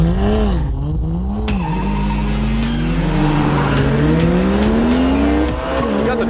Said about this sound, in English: the next race was between an incredibly cheap, abused lemon that was built by idiots and an old Toyota